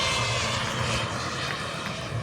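A continuous engine roar from a 105-pound radio-controlled model F-4 Phantom II jet passing overhead at an air show demo, steady and fairly loud, filling the background without any talking.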